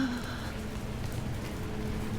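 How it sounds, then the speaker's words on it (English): Steady rain falls in an outdoor setting in Key West, a dense, even hiss of drops with no breaks through the short stretch. "it's like raining"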